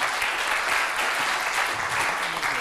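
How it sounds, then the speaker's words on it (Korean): Loud, dense audience applause opening a science forum panel discussion, a thick, sustained burst of many hands clapping close by, continuous for the whole stretch without speech. "박수로, 큰 박수로 시작하겠습니다"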